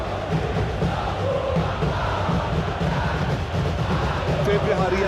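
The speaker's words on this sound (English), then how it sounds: "Well, the crowd clearly like what they just saw." A stadium crowd in the PES 2025 football video game roars and chants continuously in a dense, loud wash of voices, with no single caller standing out.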